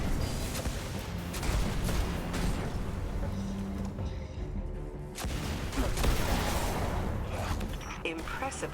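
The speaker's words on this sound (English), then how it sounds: "Throw a grenade." Grenade blasts in Destiny 2 land in quick succession among heavy gunfire and booming impacts. The combat stays loud and chaotic throughout, with a voice talking over it.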